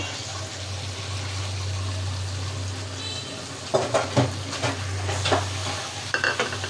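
Pieces of kalbose fish go into a pan of hot spice paste cooked with garlic and dried chillies, a steady sizzle throughout joined by sharp crackling bursts as the fish hits the oil.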